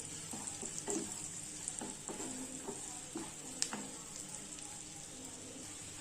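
Chopped ginger and garlic fry in hot butter in a pan, giving a steady soft sizzle with intermittent scraping and stirring knocks, fairly quiet and close, with no talk.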